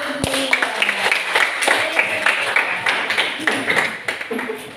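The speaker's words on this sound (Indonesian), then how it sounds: "Tepuk tangan dulu." A classroom group claps hands in a short burst of dense, overlapping claps that thins out over a few seconds, with brief talk at the start and murmuring voices underneath.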